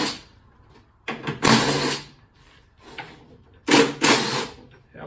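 A power ratchet spins out a car door bolt on a 260Z in two loud, close bursts of whirring, separated by a quieter pause of handling noise.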